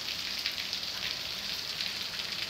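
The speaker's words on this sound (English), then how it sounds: "I think it's safe to say that it's raining." Steady rain falls at a Greek all-inclusive holiday resort with a closed pool, a constant hiss of drops spattering on surfaces with no pauses and no voices.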